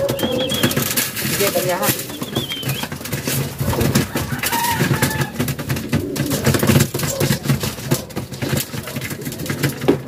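Pigeons cooing and fluttering around a rooftop roost, with someone talking over the birds throughout.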